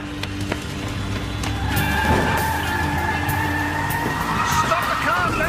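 Car tires squeal in a long skid during a police-drama chase scene, a sustained screech rising over engine noise with a scuffle of movement in the background.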